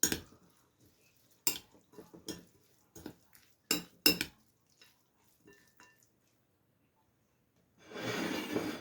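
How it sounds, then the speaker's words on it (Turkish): Meze ingredients dressed with lemon and pomegranate molasses are stirred in a bowl, a series of sharp spoon clinks and scrapes spaced irregularly, then a softer rustling stir near the end; no talking. "Hepsini bir arada karıştırıyorum."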